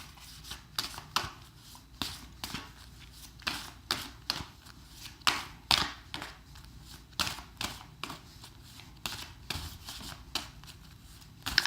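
Tarot cards shuffled by hand up close, a long run of crisp riffling bursts and soft slaps repeating in an uneven rhythm, with no talking.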